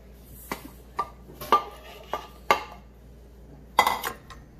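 Cream cheese and sugar being mixed in a bowl for a pineapple bibingka, heard as a few separate clinks and scrapes of a utensil against the bowl, fairly close and spaced unevenly.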